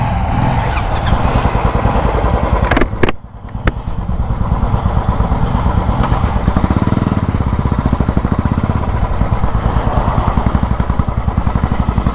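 Royal Enfield Classic 350 BS6 motorcycle idling after a service, a steady close thumping engine beat running throughout with a brief dip near three seconds, no talk.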